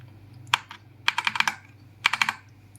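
Red switches on an Ant Esports MK3500 mechanical keyboard clack in three short bursts of crisp, close keystrokes, with quiet gaps between the flurries.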